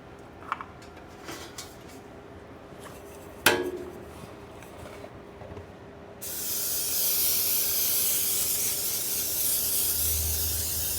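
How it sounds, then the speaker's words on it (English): A can of cooking spray hisses steadily onto a baking pan for cookie bars, following a few quiet kitchen clatters and a sharp knock. "now we're going to spray our pan over here"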